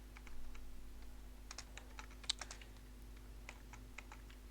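Computer keyboard keys tapped while typing into a Microsoft Office document: faint, irregular clicks in short bursts over a steady low electrical hum, with no voices.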